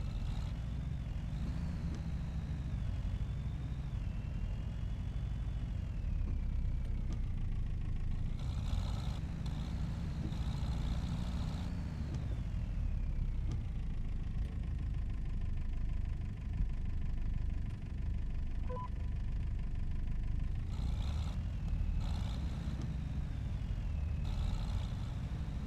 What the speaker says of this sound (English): That's got a nice idle, hasn't it? I've heard that engine sound so often.